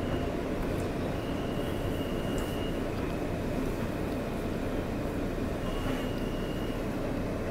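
A New York subway R160 F local train rumbles steadily along the tracks with a loud, continuous low roar and faint metallic squeals rising now and then.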